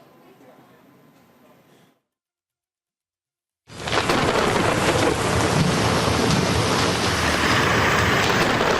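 Heavy monsoon rain pours down over flooded city streets in India with thunder, starting as a quieter wash, dropping to silence, then returning as a loud, dense, continuous roar.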